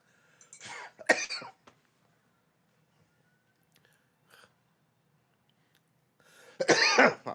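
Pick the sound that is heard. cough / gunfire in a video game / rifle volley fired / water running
cough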